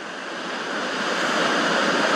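A large ocean wave breaking on a North Carolina shore, a loud broad rushing roar that swells steadily, close and alone with some wind on the microphone.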